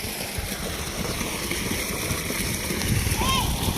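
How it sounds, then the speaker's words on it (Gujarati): Water from a running pump motor gushes and splashes steadily close by, a continuous churning flow with people talking faintly over it. "આપણે અહીંયા કરી દીધી છે મોટર ચાલુ અને પાણી જાય છે"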